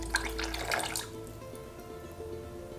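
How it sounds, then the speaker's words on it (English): Extra virgin olive oil and sherry vinegar pour into a bowl for chimichurri, a brief liquid splash and glug lasting about a second before fading to quiet room tone. "to a bowl I'll add 200 milliliters of good quality extra virgin olive oil, and 60 milliliters of sherry vinegar"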